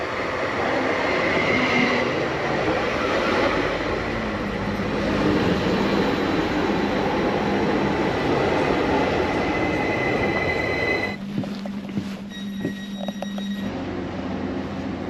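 Interior rumble of a passenger train travelling to Narva, Estonia, a steady broadband roar of wheels and carriage running continuously, shifting near the end to a quieter hum with faint tonal whine and light clatter.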